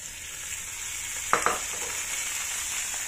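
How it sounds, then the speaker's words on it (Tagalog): Green beans and garlic sizzle and crackle while being stir-fried in a pan, a soft steady frying hiss with a couple of sharper clinks and pops midway. "Ngayon ihalo ko na yung beans."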